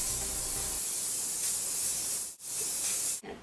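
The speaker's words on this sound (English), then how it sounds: "Finish off the look with some hairspray." Hairspray misted over a finished updo, one long, steady aerosol hiss close to the microphone, then two quick pauses and a final short burst.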